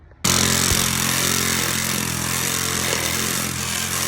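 A power saw cuts through fencing pieces, starting abruptly and running loud and steady at close range without any talk.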